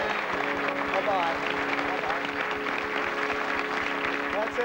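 Studio audience applause on a 1983 British game show, 3-2-1, a dense steady patter of many hands clapping throughout with a faint tonal hum beneath, no clear voices over it.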